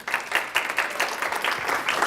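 An audience in Lincoln welcomes a speaker to the stage with brief, steady applause, a dense patter of many hands clapping at once, fairly near and without voices.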